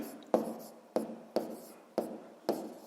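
Pen strokes on paper as a physics equation is written out, five distinct scratchy strokes in a steady rhythm, close and fairly quiet, with no talking.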